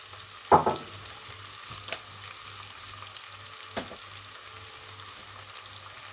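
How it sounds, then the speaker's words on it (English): A Jamaican vegetable dish with saltfish simmers and fries gently in a pot, a soft steady sizzle under a low rhythmic hum, with a few sharp clinks of a utensil near the start and middle. "Let it just simmer down for like a 1 or 2 minutes."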